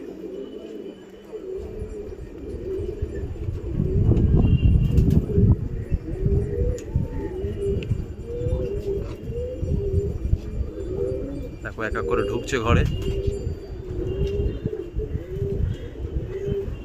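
A flock of trained pigeons coos steadily in rhythmic, overlapping calls while filing one by one into their loft, with a person talking at times and some fluttering and clatter.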